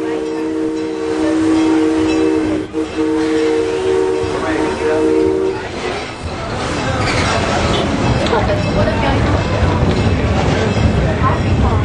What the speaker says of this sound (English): Definitely a steam train, AJ.